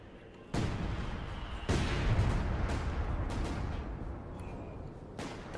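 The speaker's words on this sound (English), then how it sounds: "guns are the ones shooting here" Heavy artillery guns fire in a Company of Heroes 2 match, a sharp boom at about half a second and another near 1.7 seconds, each leaving a long rumbling wash, then more distant shots later.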